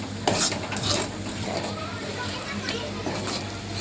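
Masala being stirred in hot oil for a tamarind pickle, with scraping spoon strokes against the pan over a steady low hum, close and moderately loud, with faint background voices.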